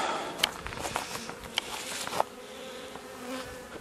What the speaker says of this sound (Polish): mocniej pszczoły latają